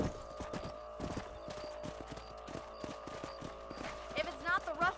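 Horse hooves clip-clop at a steady riding pace in the Western video game Red Dead Redemption, loud and close, with a horse snorting near the end and a voice talking underneath.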